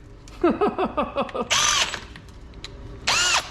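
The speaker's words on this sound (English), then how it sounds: "It's because the drill's on hammer from yesterday." A power drill running in hammer mode rattles in short bursts with hammering action, interrupted by brief squeaky whines, sounding close and loud.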